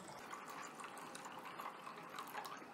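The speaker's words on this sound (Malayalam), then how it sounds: "ഇത്രയും കുതിർന്ന് വരാൻ ആവശ്യമായ വെള്ളം ഒഴിച്ചു" Water is poured onto chia seeds, giving a faint, steady trickling and splashing that runs continuously at low level, alone and without talk.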